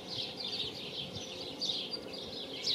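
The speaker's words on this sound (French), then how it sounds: "Puis comme vous pouvez entendre, les oiseaux," Birds chirp and sing continuously in the distance, a bright high twittering layered over quiet outdoor ambience.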